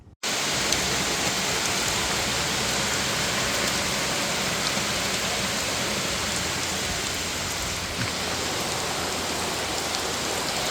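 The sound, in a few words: heavy downpour of rain on a golf course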